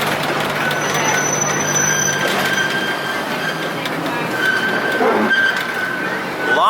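A small amusement park miniature passenger train, the Zephyr Railroad at Dorney Park, rumbling along its track, steady rolling noise with wheels squealing and a faint voice in the background.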